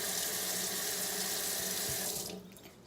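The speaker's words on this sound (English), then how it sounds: "You wanna use cold running water to rinse your makeup brushes" Cold water runs from a tap while a makeup brush is rinsed, a steady close stream that cuts off near the end.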